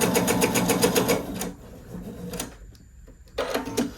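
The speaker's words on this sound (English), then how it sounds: "I'm going to sew those together with a nice quarter inch seam." Sewing machine stitching two fabric squares together with a quarter inch seam, a rapid close burst of stitching that stops, followed by a few brief bumps and a short restart.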